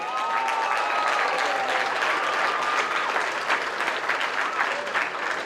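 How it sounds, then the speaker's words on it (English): A crowd at a national school track and field championship claps steadily, a dense, even wash of applause filling the space with no voices standing out. "Let's give him a round of applause."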